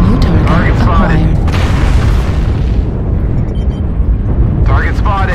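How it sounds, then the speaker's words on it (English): Artillery strike explosions in a video game set in a frozen city, heavy continuous booming rumble filling the whole stretch at high level, with a voice talking over it near the start and end. "Artillery strike. Artillery strike."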